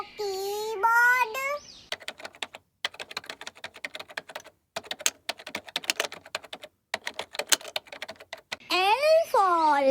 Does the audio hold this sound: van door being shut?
no